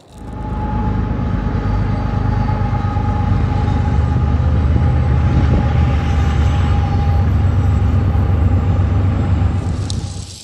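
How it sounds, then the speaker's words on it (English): A loud, continuous rumbling roar of a train passing close by on a track beside a river, building quickly and holding steady for about ten seconds. "with any river system there's always a train track next to it. And we got one coming now."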